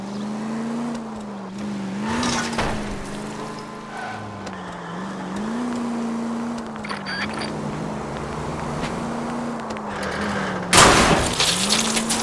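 A car driven recklessly in the L.A. Noire video game, a steady engine drone rising and falling with gear changes, a tire squeal or crash burst near the end, sparse voices.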